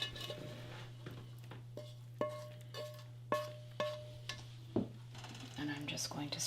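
Sautéed mushrooms and onions spooned onto a keto calzone: a series of sharp spoon clinks against a dish at a steady pace, fairly quiet over a low hum, with a little scraping at the end.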